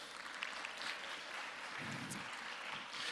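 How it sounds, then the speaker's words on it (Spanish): A church congregation claps for a man at a Sunday service, a soft, distant patter of applause that continues evenly for a few seconds. "Un aplauso para Alberto"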